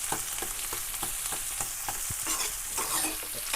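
Sliced onions and green chilies fry in a pan, a steady sizzle broken by regular scraping strokes of a spoon stirring them, close and clear with no voices.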